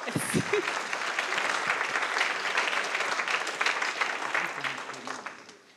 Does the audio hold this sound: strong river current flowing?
no